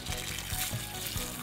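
Collected rainwater poured out of a rain gauge, a soft continuous splashing trickle with a few brief gurgles, close and quiet with no voices.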